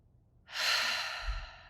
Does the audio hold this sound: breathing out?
yes